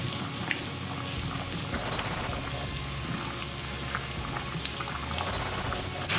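Shallots sizzle in a hot pan as rye whiskey is poured in to deglaze, giving a steady, dense hiss and crackle that carries on evenly throughout.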